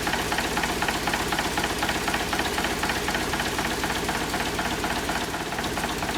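A 1963 Volvo BM tractor engine running while its air brake compressor pumps air: a steady, rapid knocking chug that is continuous and fairly close throughout, with no speech.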